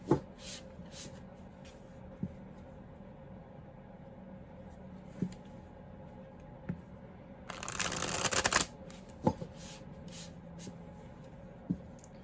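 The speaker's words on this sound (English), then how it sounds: "some nights they require more shuffling" Playing cards are shuffled with a quick riffling burst in the middle, surrounded by quiet room tone and scattered soft taps and clicks of handled cards.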